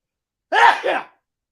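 A grown man lets out one short, loud, two-part sneeze close to the microphone, a sharp burst after a moment of silence.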